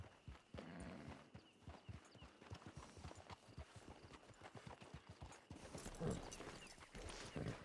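Steady clip-clop of a horse's hooves walking at an even pace in Red Dead Redemption 2, close and fairly clear, with faint ambient noise behind and no speech.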